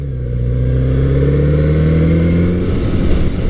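A Kawasaki Z900RS motorcycle engine accelerates, loud and close, its note climbing steadily in pitch through the gears in one sustained pull.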